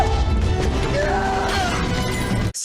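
Glass smashing in a James Bond action scene from Quantum of Solace, a loud continuous crash and shatter mixed with dense movie sound that cuts off sharply near the end.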